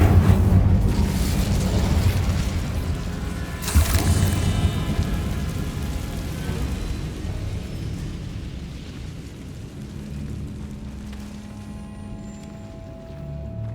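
The Incendio fire spell in Hogwarts Legacy goes off as a loud whooshing burst with a booming blast near four seconds, then a roaring flame that slowly fades to a low crackling rumble.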